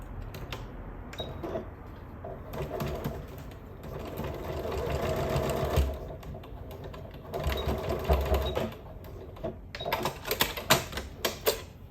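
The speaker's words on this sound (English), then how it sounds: "Maybe I'll just sew along the edge there to hold it in place." A sewing machine stitches a quilted cover in several bursts of rapid, even clatter, separated by short pauses and faster runs, with no talk.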